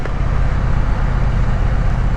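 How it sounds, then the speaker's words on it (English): Steady broadband wind roar buffets an open-face helmet on a Triumph Bonneville riding slowly, loud and continuous with low rumble from road and engine beneath, no talk. "I'm gonna open the helmet, so it might get a little wind noisy"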